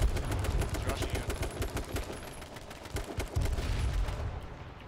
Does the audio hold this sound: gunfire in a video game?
yes